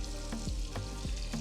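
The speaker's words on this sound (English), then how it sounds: "sizzling chicken" Chicken pieces frying in coconut oil, giving a steady close sizzle and crackle throughout, with a few brief clatters of pieces being moved in the pan.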